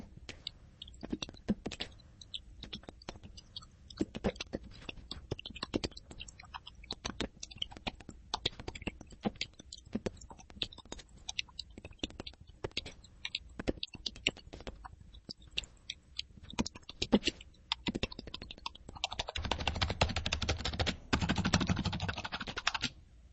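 Soft, muffled keystrokes tap out a steady, fast typing rhythm up close, with a brief rise of low background noise near the end.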